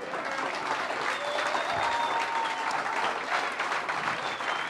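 Congregation applauding during a Sunday church service, a steady dense wash of clapping from a large crowd throughout, with faint voices mixed in.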